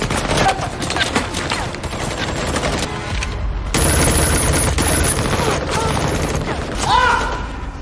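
Dense, rapid gunfire rattles through an action film shootout, with bursts piling into a continuous loud barrage that swells again near the end.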